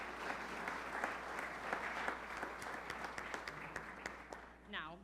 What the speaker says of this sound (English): Yep, you can clap for that.